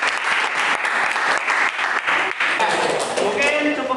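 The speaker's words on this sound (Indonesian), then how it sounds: "Tepuk tangan dulu dong." A classroom of students claps together, a dense, even patter of many hands held steady for several seconds, with a few voices mixed in near the end.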